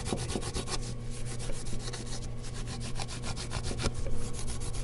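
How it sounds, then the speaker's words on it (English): Steady back-and-forth rubbing as a vintage guitar nut is polished, a dry continuous sanding scrape in quick rhythmic strokes, close and alone. "that nut's polished up more than adequately"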